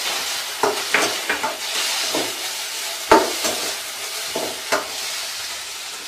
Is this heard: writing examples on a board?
no